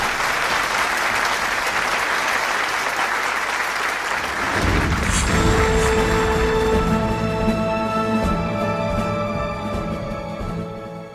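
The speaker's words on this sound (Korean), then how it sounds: "여러분 큰 박수로 뉴트 깅그리치 전 하원의장을" A large rally crowd at a hope forward convention applauds to welcome former House Speaker Newt Gingrich, loud sustained clapping that gives way midway to swelling stage music while the applause fades beneath it.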